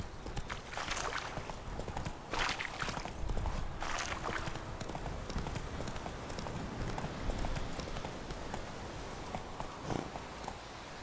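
Hoofbeats from Roach the horse in The Witcher 3: Wild Hunt clip-clop at a walking pace over game ambience, moderately loud and near, with a few brief bursts standing out.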